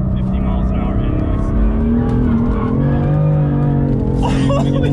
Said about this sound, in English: This is third gear. We're going about 50 miles an hour in this.